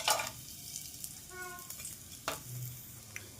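Whole garam masala spices hit hot oil in a pan for paneer masala pulao, giving a soft, close, continuous sizzle with a few light clinks and taps, fairly faint and without speech.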